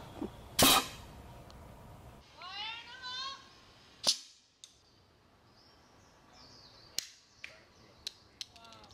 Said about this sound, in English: Load. Ram. Loading. Firing. Firing up!